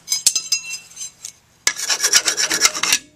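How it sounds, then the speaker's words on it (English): Hand file rasping across the end of a broken metal bolt, a close, bright scraping in two bursts of quick back-and-forth strokes separated by a brief pause, with no talk. "you gotta take a file"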